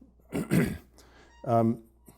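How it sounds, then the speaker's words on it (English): A rough throat clearing from a person with a cold, two gravelly bursts followed by a brief voiced grunt, close and fairly quiet. "if you hear me clearing my throat like that"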